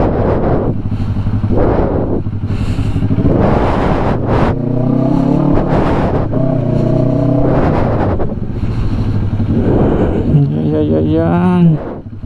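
Motorcycle ride through gridlocked Metro Manila traffic, with engine drone, passing vehicles and wind buffeting the microphone throughout, while someone talks over it nearly continuously.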